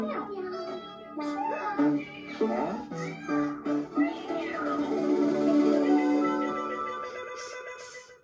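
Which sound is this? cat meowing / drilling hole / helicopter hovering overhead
cat meowing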